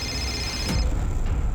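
A telephone rings once with a short electronic trill over steady low room noise, then cuts off, in a quiet indoor scene.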